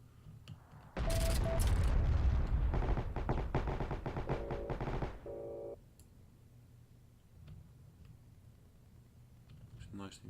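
Gunfire from the sniper role in the multiplayer war shooter Heroes and Generals, with a dense, loud stretch of overlapping shots and impacts early on, then quieter game ambience with a few faint distant cracks near the end.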